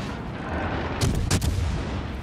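Tirpitz battleship main guns firing in World of Warships Legends, a short burst of heavy booming salvos about midway, standing out over a steady rumbling battle background with no talk.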